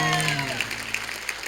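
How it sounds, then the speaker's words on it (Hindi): A studio audience at a comedy show breaks into steady applause, loud and close, with music and talk in the background. "जोरदार तालियां चंदू के लिए."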